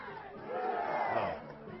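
Stadium crowd at a college softball game, Oklahoma against Texas Tech, a broad wash of distant cheering and chatter that swells in the middle and eases off, with no single voice standing out.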